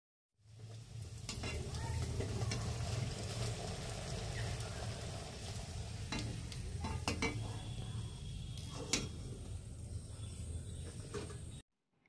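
Vegetable curry sizzles steadily in a pan on a home stove, with frequent scraping and clinking of a spoon stirring against the metal, close and continuous for about eleven seconds.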